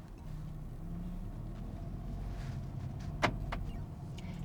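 A car drives along a road with a steady low engine and road rumble and one sharp brief click partway through, with no talking.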